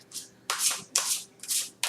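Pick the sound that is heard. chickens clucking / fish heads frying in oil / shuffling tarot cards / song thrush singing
shuffling tarot cards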